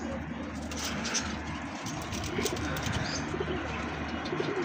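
Domestic pigeons, a loft flock with unclipped wings, beat their wings and swirl overhead, a steady dense flutter running the whole time with faint chirps and coos mixed in at moderate distance.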